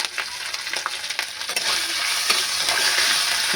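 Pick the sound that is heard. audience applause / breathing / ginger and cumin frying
ginger and cumin frying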